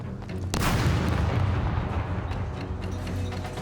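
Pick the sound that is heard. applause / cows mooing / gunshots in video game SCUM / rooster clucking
gunshots in video game SCUM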